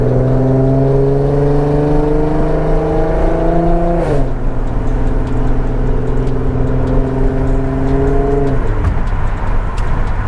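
A loud tuned Infiniti Q50 engine pulls hard through the gears, its pitch climbing steadily, dropping briefly at each shift, with a deep, booming exhaust close by.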